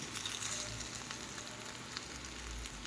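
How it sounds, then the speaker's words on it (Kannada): Palak, oats and lauki tikkis shallow-fry in oil in a pan, giving a steady, quiet sizzle with faint crackles and pops throughout. "ಇಲ್ಲಿ ನಮ್ಮ ಟಿಕ್ಕಿಗಳು ನೋಡಿ ಸ್ನೇಹಿತರೆ ಚೆನ್ನಾಗಿ ಶಾಲೋ ಫ್ರೈ ಆಗ್ತಾಯಿದೆ"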